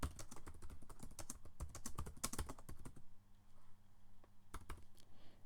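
Someone types on a computer keyboard nearby, a rapid flurry of soft key clicks that thins into a few scattered taps after a pause.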